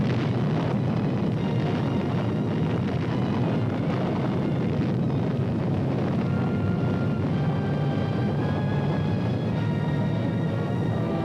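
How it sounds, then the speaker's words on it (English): Demolition charges blowing up a floating bridge span during the 1951 Korean War withdrawal, heard as a steady heavy rumbling roar that persists throughout, loud and distant-sounding with no voices. "Explosives attached, the order is given to destroy the floating span."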